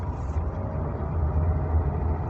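A car engine idling low and steady while the car reverses and turns, a faint, even mechanical hum with no talking.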